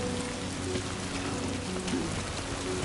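Timefall rain pours in the video game Death Stranding 2 as a dense, steady hiss of drops on surfaces, loud and continuous through the short stretch with no voices.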